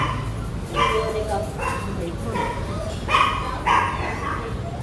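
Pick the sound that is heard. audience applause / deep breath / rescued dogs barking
rescued dogs barking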